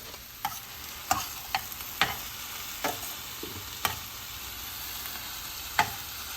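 Peas, boiled chana and chopped tomatoes being stirred in a hot tawa for pulav, with a light steady sizzle and repeated sharp scrapes of the spoon against the pan.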